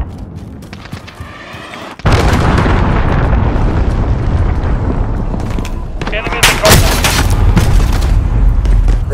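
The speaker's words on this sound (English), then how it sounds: "Enemy cruise missile incoming!" A cruise missile strike in the video game Modern Warfare hits with a sudden loud blast after a quieter lead-in, followed by sustained rumbling roar and a second sharp burst, with gameplay voices mixed in.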